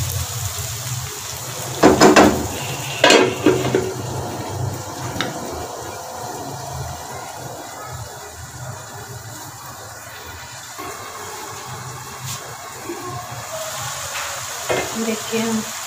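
A spice paste frying in a covered pot on low heat for pota liver, giving a steady soft sizzle and bubbling broken by a few sharp clinks and knocks of utensils, with no talk.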